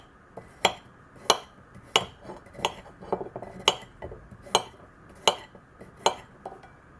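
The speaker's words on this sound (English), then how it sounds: "if I would cut against, say, a plate, and here the carrot or steak or whatever, if I cut against it" A plain edge knife cuts through a carrot against a hard plate, producing about nine sharp, close clinks at a steady pace with near silence between them.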